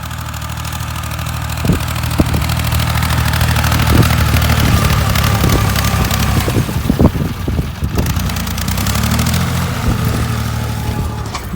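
A Dongfeng 254 tractor pulls a 1.5 m disc harrow across ploughed field soil, its engine a steady loud diesel drone throughout, with occasional clanks and knocks from the implement.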